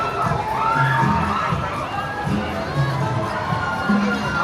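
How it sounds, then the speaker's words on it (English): Screams and shouts from riders on the Pixar Pal-A-Round wheel at Disney California Adventure rise over a busy theme-park crowd, a steady, loud wash of voices and excited yells. "I hear some screaming finally from the Pixar pal around"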